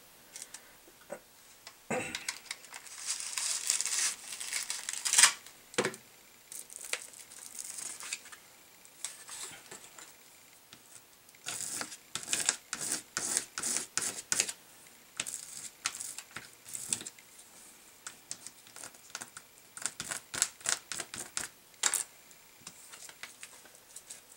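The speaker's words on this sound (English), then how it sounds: "I'm going to run through my Xyron sticker maker" Paper being fed through a Xyron sticker maker, giving irregular crisp clicks, ticks and rustling bursts at close range, with brief pauses between runs and no talking.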